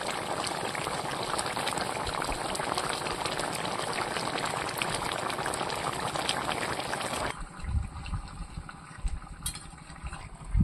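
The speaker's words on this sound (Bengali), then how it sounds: "দিয়ে আর 2-1 মিনিট ফুটিয়ে নেবো তরকারিটা" A pot of curry bubbles and simmers steadily for several seconds, a dense, continuous rolling boil that suddenly drops to quieter, sparse popping and faint clinks near the end.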